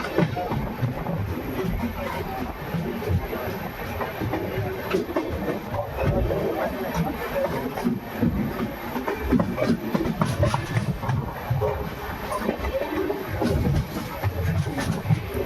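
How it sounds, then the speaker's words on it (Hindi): The 22977 Jaipur Jodhpur SF Express running on a curving track, heard as a steady, loud rumble with continuous clickety-clack of wheels on rail joints throughout, recorded from on board. "तो अब ट्रेन राइट साइड में कर्व करके बढ़ेगी मेन लाइन की तरफ।"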